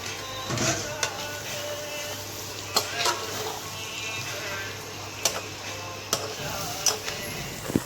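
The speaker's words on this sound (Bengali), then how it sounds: "ভালো করে মাংসটা কষে নিলাম" Chicken pieces stir-fry in a pan with salt and spices, giving a continuous sizzle broken by irregular metallic clicks and scrapes from the spatula against the pan.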